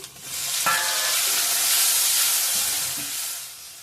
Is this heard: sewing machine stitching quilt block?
no